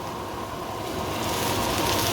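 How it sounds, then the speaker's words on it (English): Sesame oil sizzles in a hot stir-fry pan with garlic for a chicken and peanut butter stir fry, a steady close hiss with fine crackle that holds level and swells slightly toward the end, no voices. "just give that a bit of a sizzle"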